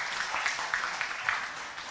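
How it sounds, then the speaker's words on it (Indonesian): Short, fairly faint applause at an official swearing-in ceremony for the directors of a regional market and food company in Badung, scattered clapping with a few sharper claps standing out. "Tepuk tangan lah."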